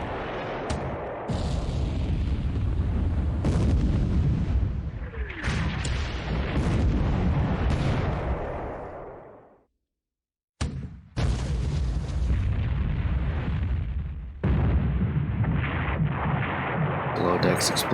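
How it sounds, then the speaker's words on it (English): In the naval battle game War Plan Orange, an internal explosion inside a warship sounds as heavy rumbling booms and blasts over dense battle noise, with a brief silent gap partway through and a voice talking now and then. "Internal explosion on the Sakaki."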